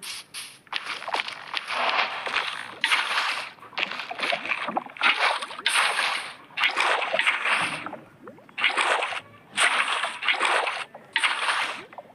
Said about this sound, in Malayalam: വെള്ളം ഇവിടെ നിന്ന് എടുക്കാം.